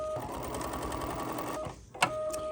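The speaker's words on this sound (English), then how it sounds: "Now we're going to fold this piece over into position and stitch another placement line." An embroidery sewing machine stitching a placement line on a quilt block, giving a close, rapid, steady mechanical whir with a brief pause and restart near the end.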